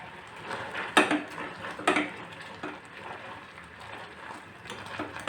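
Cooked tomatoes being mashed in a metal pot for tomato saaru, with a few sharp clanks of the utensil against the pot over steady scraping and squelching, close and moderately loud.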